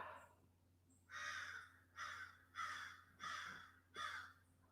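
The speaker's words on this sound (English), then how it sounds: "guys hear the crow?" A crow caws outside five times in a fairly steady rhythm, harsh and clear at moderate distance, over a low constant hum and no talk.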